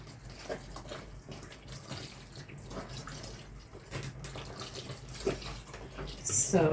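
Hands mix light soup ingredients in water, giving continuous close sloshing and squelching with small splashes and occasional louder swishes.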